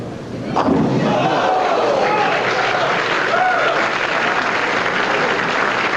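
Applause from a capacity crowd at a 1990 PBA AC Delco Open bowling telecast swells suddenly and holds steady as a loud, dense wash, with faint shouts mixed in.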